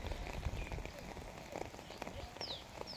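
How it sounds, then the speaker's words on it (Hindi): Rain drips and patters into water in a village in Gadap Town, Karachi, a close, busy, steady spatter with a few high bird calls chirping over it. "किस तरीके से पानी में बारिश के कतरे आके टपक रहे हैं"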